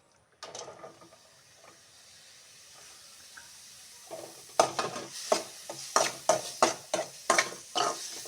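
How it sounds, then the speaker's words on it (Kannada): Onions frying in a hot pan for patrode, with a faint sizzle at first and then repeated sharp stirring scrapes that grow louder and land at a steady rhythm over a continuous hiss. "ಫ್ರೈ ಮಾಡ್ತಾ ಇದ್ದೇನೆ, ತುಂಬ ಚೆನ್ನಾಗಾಗತ್ತೆ. ಇದಕ್ಕೆ ಈರುಳ್ಳಿಯನ್ನು ಹಾಕ್ತಾ ಇದ್ದೇನೆ."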